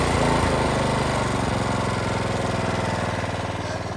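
A gas-powered pressure washer engine idles at low throttle, giving a steady, close, rhythmic chugging with no talk over it.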